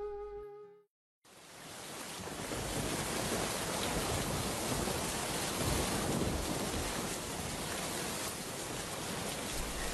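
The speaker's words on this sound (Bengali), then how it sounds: "দেখেছো বাবা, কত জোরে বৃষ্টি হচ্ছে।" Heavy rain pours in a Bengali cartoon: a brief burst of music gives way to a short silence, then a loud, dense, unbroken hiss of rainfall continues to the end.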